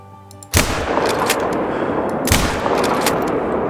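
A .243 rifle in the hunting game Call of the Wild fires one loud, sharp shot at animals, followed by a long, rumbling echo and a second crack further into the decay.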